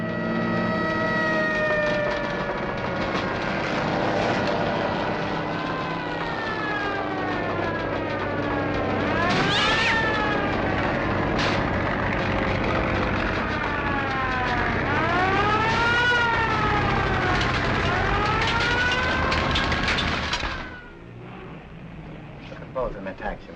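A fire engine siren from a firehouse just down the street wails loudly and steadily for about twenty seconds, repeatedly rising and falling in pitch, then cuts off, leaving a few faint knocks.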